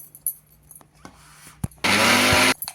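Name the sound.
mixer grinder blending spice masala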